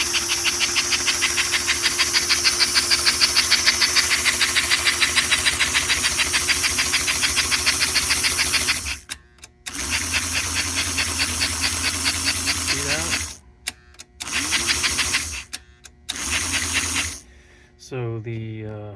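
A 1950 Lionel 302AC model steam locomotive runs on its track, its chuff unit giving a steady, loud hissing steam chuff that cuts out in several brief gaps near the end as the engine stops and restarts.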